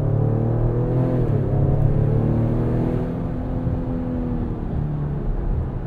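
A 2021 Ford Explorer ST's EcoBoost engine hums steadily from inside the cabin while driving, with a low rumble and a smooth rising then easing engine tone, no voices.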